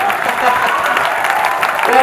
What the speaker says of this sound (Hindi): मैं चाहूंगा कि आप सब अपने लिए एक जबरदस्त तालियां बजाइए